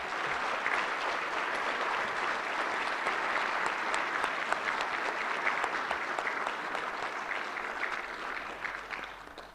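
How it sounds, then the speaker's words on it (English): Sustained applause from an audience at a council inaugural meeting, steady dense clapping filling the room for the whole stretch, with no talk over it. "if we can give them a round of applause"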